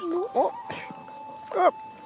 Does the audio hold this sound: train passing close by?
no